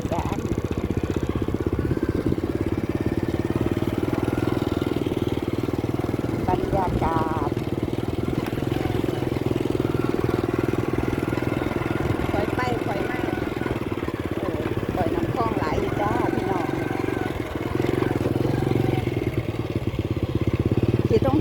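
A motorcycle ridden along a road through Thai rice paddies and sunn hemp fields, with a steady mid-pitched engine drone and wind rush running throughout, while someone talks over it.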